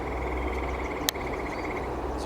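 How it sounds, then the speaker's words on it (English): A grey tree frog trills outdoors in a wetland area, a steady rapid pulsed call running for most of the moment, moderately loud against faint background noise, with one sharp click partway through. "There's a grey tree frog calling there."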